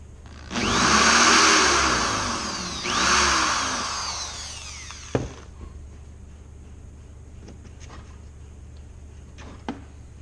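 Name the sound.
drilling through a metal bolt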